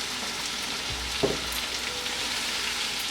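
Chopped vegetables and tomatoes cook in a pan with salt, giving a steady, soft sizzle and a single brief clunk from a utensil.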